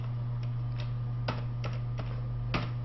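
Typing on a computer keyboard while entering text into a spreadsheet, with a handful of faint, irregular clicks over a steady electrical hum.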